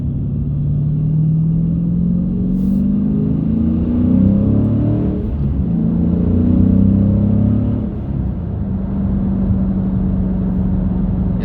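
A car engine revs up and accelerates, its pitch rising through gears, a steady loud rumble from inside the vehicle with no talking.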